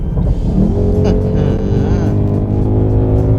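A Ford Mustang 55th Anniversary Edition revs hard under acceleration, its loud, close engine note climbing steadily through the whole burst.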